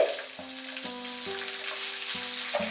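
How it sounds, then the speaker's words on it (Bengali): Chopped ginger and garlic fry in a pan over medium heat for chilli soyabean, a steady close sizzle with a faint repeating tonal hum in the background, without talk. "আদা রসুন কুচিটাকে আমি 1 মিনিট ফ্রাই করে নেব মিডিয়াম আঁচে"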